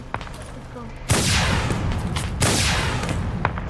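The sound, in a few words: gunfire in war footage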